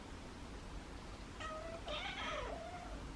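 A feral or foster cat meows twice in quick succession, mid-close and fairly clear, over a steady background hiss with no talking.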